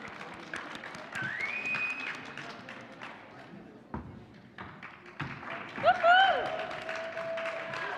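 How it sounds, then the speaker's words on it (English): An audience at a live fellowship event applauds for John Mark: a steady, moderately loud wash of clapping and crowd noise that dips briefly midway and then swells again. "Can we give a round of applause to John Mark?"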